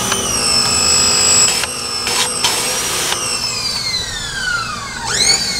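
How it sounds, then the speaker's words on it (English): A pressure washer sprays a grimy wheel, a loud continuous hissing blast with a whining motor tone that stops and restarts several times, pitch sagging and then jumping back up near the end. "So we're just gonna hit it with the pressure washer."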